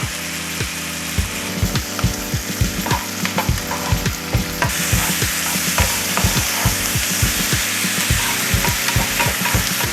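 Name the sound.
corn frying in butter in pan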